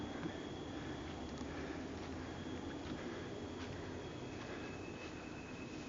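A long freight train rolls by near the Lilyvale railway tunnels in Royal National Park in a constant heavy rumble, some distance off, with thin high wheel squeals drifting through the noise.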